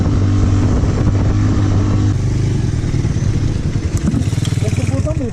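A motorcycle engine labors loudly up a forest slope, a steady droning tone that shifts pitch midway and then pulses unevenly as it strains, with a voice briefly audible over it.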